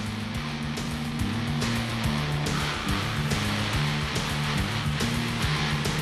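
Loud, continuous diesel truck engine roar during a burnout competition, deep rumbling harmonics that surge and shift throughout, a heavy motor revving hard without letup.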